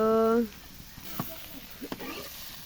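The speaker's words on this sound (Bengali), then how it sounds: "আমাদের লাউ ভাজি প্রায় হয়ে যাচ্ছে" Bottle gourd frying in an oil-filled pan, a soft continuous sizzle with a few stirring clicks and scrapes, heard after a brief tonal sound at the start.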